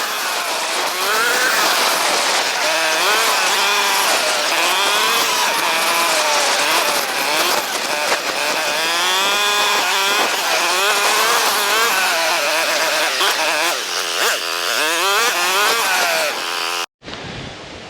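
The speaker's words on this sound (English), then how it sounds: "the 450 sounds really good when it sounds like a remote control car" A 450 dirt bike engine revs and whines while riding through the bush, loud, close and continuous, rising and falling with throttle changes before cutting off abruptly near the end.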